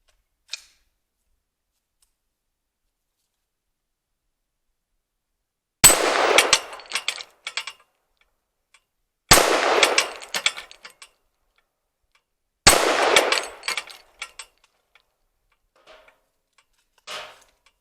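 Three sharp, loud gunshots test-firing Mead frangible and 77-grain BTHP ammunition at a target, each crack followed by a brief decaying echo and clatter, spaced a few seconds apart with quiet between.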